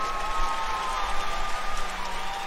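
Steady applause and crowd noise from an audience at a Rainbow Six gaming event, a continuous wash of clapping that holds at an even level from start to finish.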